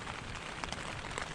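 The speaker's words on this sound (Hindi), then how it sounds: "मैं मतलब बारिश की आवाज़ मैं भी सुन रहा था" Steady rain falls at a campsite in Tiuni, Uttarakhand, a dense, even hiss of drops lasting a moment at moderate, close level.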